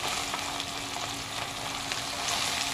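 Beef liver steak frying in hot oil in a home kitchen pan, a steady dense sizzle with faint crackles running without pause, close and moderately loud, no talk.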